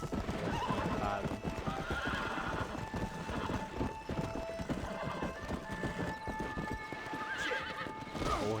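A horse galloping and neighing in the Red Dead Redemption video game, with steady hoof clip-clops and several whinnies over game sound, while a voice talks alongside.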